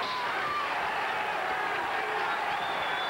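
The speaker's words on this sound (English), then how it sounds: "The crowd trying to become a factor here in Richmond." A basketball arena crowd in Richmond at a 1986-87 Cleveland State versus VCU game, a dense, steady roar of cheering voices filling the whole stretch.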